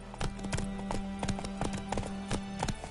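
Hooves of Geralt's horse Roach in the video game The Witcher 3, a steady rhythmic clip-clop of hoofbeats at a trot, close and clear over a low continuous hum, no talking.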